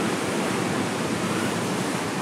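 Strong waves break on Nai Thon beach in Phuket, a constant broad wash of surf that stays loud and unbroken with no voices.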